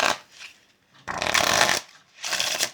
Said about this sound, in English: riffle shuffles if you want, maintaining that bottom card